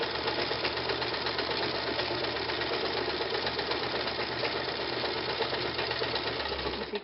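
A sewing machine free-motion quilts a stipple pattern, its needle running in a fast continuous mechanical chatter, close and steady from start to finish.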